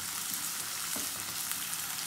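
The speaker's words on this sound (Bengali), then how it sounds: "এটা ভাজা হয়ে গেলে অল্প একটু পেঁয়াজ আমি উঠায় নেব" Onions frying in oil in a pan for a light potato and peas pulao, a steady dense sizzle with soft crackles and a few stir scrapes, close and alone with no talk.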